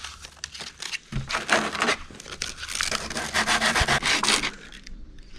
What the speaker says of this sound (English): I'm just going to get rid of any last excess with the sandpaper